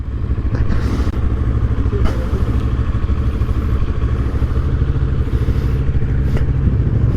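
A motorcycle engine rumbles steadily at a motorcyclists' Christmas gathering, a loud, close, continuous low throb with occasional light clatter and no talking.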